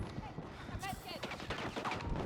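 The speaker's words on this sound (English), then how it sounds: "Hostile machine gun! Get cover!" Machine gun fire in the Battlefield 6 video game, a steady stream of rapid shots and impacts layered with battlefield noise, with a voice speaking over it.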